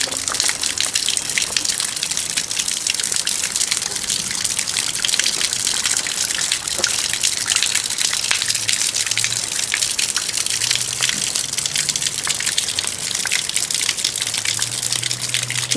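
Water gushes steadily into a window well at an apartment building, a loud, continuous rushing flow with no break and no voices.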